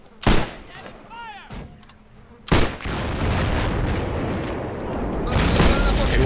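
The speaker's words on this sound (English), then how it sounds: "Still firing those mortars." Mortar fire in a war game set in 1928 Nicaragua, U.S. Marines against Sandinistas: two sharp booms early, then a heavy thump followed by sustained rumbling battle noise, with faint voices in between.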